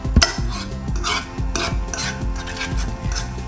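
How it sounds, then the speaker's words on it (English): Eggs for egg fried rice tossed and stirred in a frying pan over low heat, with repeated scraping and clattering of a utensil against the pan and a faint sizzle beneath. "just generally keep these on low heat and just keep tossing and turning until the eggs are done"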